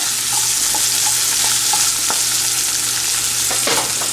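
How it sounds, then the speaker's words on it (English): Chopped onions sauté in a hot pan for a fish curry, giving a steady, loud sizzle with scattered soft clinks and scrapes of stirring throughout. "Now I'm going to add the chopped onions and saute it nicely until they get slightly brown color."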